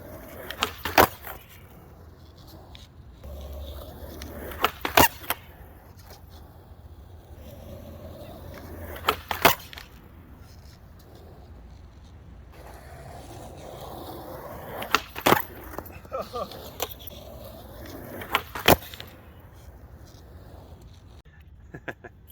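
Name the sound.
skateboard rolling and landing backside bigspin tricks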